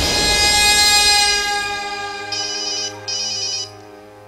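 A telephone ringtone plays loud and close, a steady electronic melody that cuts off briefly twice before stopping, heard alone on a Manipuri stage play set.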